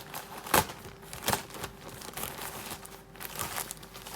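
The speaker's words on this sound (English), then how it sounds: "Oh god, I can't even rip it." Someone tears and crinkles a plastic delivery package, with a couple of sharp ripping bursts among continuous rustling at close range. There is no talking.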